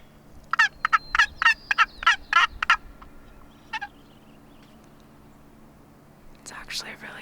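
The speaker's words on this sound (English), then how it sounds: "It's actually really cool just to see wild turkeys." A wild turkey gobbles in an Oregon forest, a quick series of about eight loud rattling notes, followed by a quieter call and then a whispered voice near the end.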